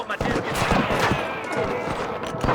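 Rapid volleys of gunfire in the Red Dead Redemption video game on PC crack out in a dense series of sharp shots, some bursts overlapping into a fusillade.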